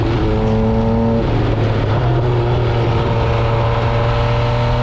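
A 2020 MV Agusta Brutale 800RC motorcycle engine accelerating on back roads, loud close engine drone with rising and shifting pitch, steady and continuous with wind rush, no talking.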